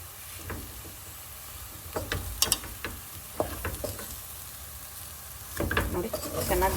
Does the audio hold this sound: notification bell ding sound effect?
no